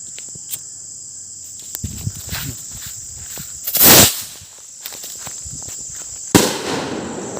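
Two homemade firecrackers go off outdoors, one sharp blast after a few seconds and a second one near the end. Crickets chirp steadily in the background, with a few small clicks and rustles between the bangs.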